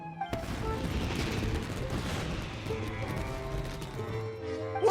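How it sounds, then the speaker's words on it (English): Dense, continuous crackling and booming bursts of fireworks in Genshin Impact going off in rapid succession, loud and busy throughout with no pauses. "Yoimiya, this is turning into a bit of a fireworks display."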